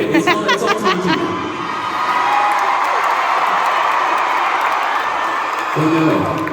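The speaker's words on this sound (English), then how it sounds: "They know that I'm gonna be upset if they cheer the most for you, and they're just doing it anyway." Concert crowd at a tour show in Pittsburgh cheers and screams loudly and steadily, with whoops rising over a dense roar that swells near the end.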